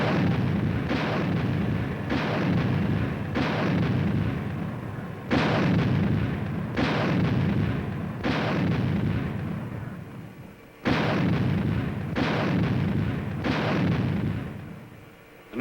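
Artillery guns fire during a US Army training demonstration at Fort Bliss, a run of about ten heavy booming blasts, each a sharp crack trailing into a long rumble, spaced a second or two apart, loud and alone.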